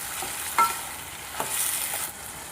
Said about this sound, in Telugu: టమాటా ముక్కలను ఇలా వేసుకున్న తర్వాత మధ్య మధ్యలో కలుపుతూ ఉండాలి.